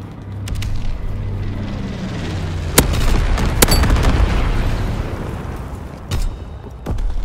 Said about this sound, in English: Low altitude bomber inbound. Dropping incendiary.